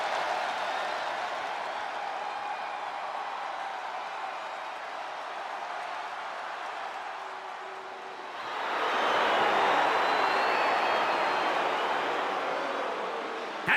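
A WWE NXT wrestling arena crowd keeps up a steady roar of cheering and applause that swells louder partway through, a broad wash of many voices at a distance.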